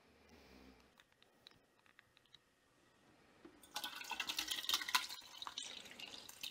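Pureed watermelon is poured into a strainer: a few faint drips and clinks, then a loud, splashy stream of liquid that runs until the end.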